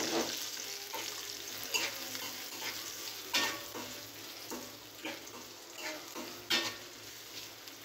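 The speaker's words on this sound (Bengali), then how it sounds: "এখন আমি দিয়ে দিব পেঁয়াজ কুচি, রসুন কুচি, কাঁচামরিচ।" Chopped onion, garlic and green chilies frying with cumin in a pan, a steady bright sizzle punctuated by scattered scraping stirs and light metal clinks, close and quiet.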